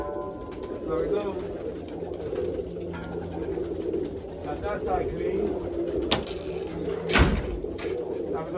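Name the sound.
birds cooing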